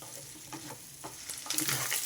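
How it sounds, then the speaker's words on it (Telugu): Mutton spleen frying in oil with ginger paste, a soft steady sizzle with a few quiet stirring scrapes, swelling louder near the end. "ఇది ఆయిల్లో కొంచెం వేగితే బాగుంటుందండి ఆయిల్లో కొంచెం వేగనివ్వండి"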